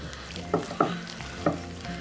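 Patty melt ingredients mixed by hand in a bowl, soft quiet squishing with a few sharper wet slaps spaced irregularly, close and faint, no voices.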